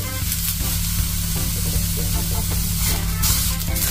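Italian eggplant frying in a pan gives a steady, close sizzle with crackling and hissing throughout and no talk.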